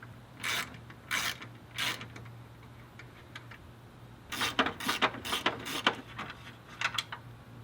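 A ratchet turns 8 mm bolts on a 2005 Ford Focus, giving close, crisp clicking bursts: a few separate strokes first, then a faster run of repeated ratcheting.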